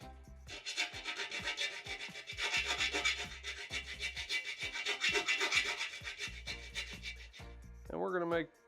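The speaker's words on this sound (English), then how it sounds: "So I got my rat tail file here." A rat tail file rasps back and forth on metal in rhythmic, close strokes, steady and gritty, with a brief voice at the very end.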